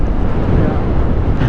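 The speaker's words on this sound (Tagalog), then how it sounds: "Kaya pala mahangin dito." Strong wind buffeting the microphone in an open windy area lined with wind turbines, a steady loud roar with no talk.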